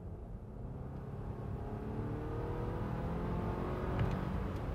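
A Volvo XC60 T6 plug-in hybrid SUV accelerates on the road, heard from inside as a steady engine and road drone that slowly climbs in pitch and builds in loudness over a few seconds, with no voices.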